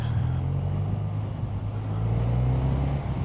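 A BMW R12 motorcycle engine pulls hard under acceleration, a close, steady low-pitched drone that holds loud and even throughout with a slight rise in pitch.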